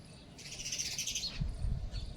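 Small birds chirp in a rapid, high twittering burst around a home, fairly faint, with a brief repeat near the end over low background rumble.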